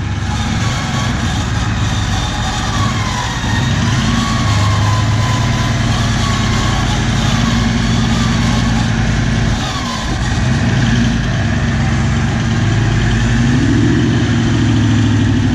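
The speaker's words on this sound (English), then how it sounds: "Start winching, just very slowly drive." A 4WD engine running slowly in first gear while winching up over a hump, a close, loud, steady low drone with slight shifts in pitch and load, no speech.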